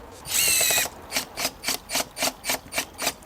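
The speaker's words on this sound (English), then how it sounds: "Listen to those impacts, they're just so gentle and quiet." A Hikoki hydraulic impact driver is run at top speed. A brief high whir gives way to a steady run of about eight soft, evenly spaced impacts, close up with no other sound.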